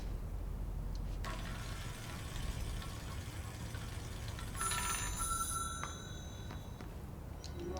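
An old telephone rings in the video game Control, with a bright burst of ringing midway that stands out over a low, steady ambient hum.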